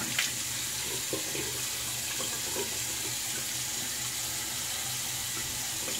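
Water runs steadily from a tap while a razor is rinsed, a constant close hiss with faint clinks beneath.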